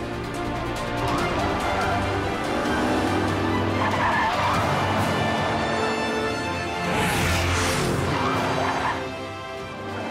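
Toy cars racing across a desert in a Matchbox adventure, with loud engine roar and long tire skids that swell twice, around the middle and again near the end, with no talk.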